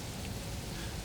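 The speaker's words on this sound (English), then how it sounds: "The rain is still falling" Steady rain falling on a street, a dense continuous hiss of drops with no gaps or voices, close and fairly loud, part of a sci-fi sleep ambience.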